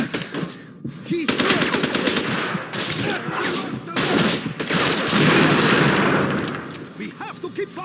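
Gunfire from the James Bond 007 Blood Stone video game, with loud bursts of automatic fire and scattered shots continuing throughout, and speech mixed in under the shooting.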